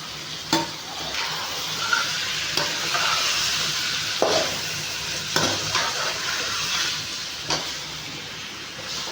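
Washed chicken pieces being stirred and mixed in a cooking pot for chicken gravy, with steady sizzling hiss and a few sharp scraping knocks of the spoon against the pot, close by with no talk.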